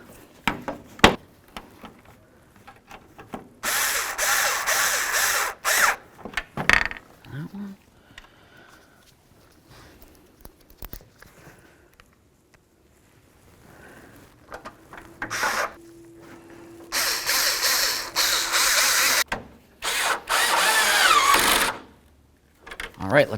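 Bursts of a power tool running bolts back into a headlight assembly on a 1992-99 GMC K1500, several short loud whirring runs separated by pauses, with a final longer pair of runs near the end.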